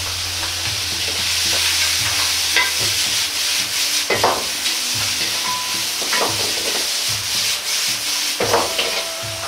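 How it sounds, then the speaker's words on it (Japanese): Bamboo shoots and lotus root stir-fried with sliced ginger in a hot pan, a steady sizzle broken by repeated scraping and stirring strokes of a utensil, close and fairly loud with no talking. "まずは固めの野菜のタケノコとレンコンを入れて炒めます。"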